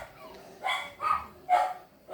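Four sharp barks from a dog come in quick succession, close and fairly loud over near silence, with no voices.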